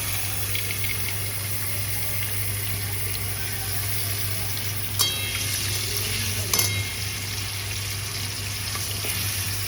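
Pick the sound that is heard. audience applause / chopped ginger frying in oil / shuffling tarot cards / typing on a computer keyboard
chopped ginger frying in oil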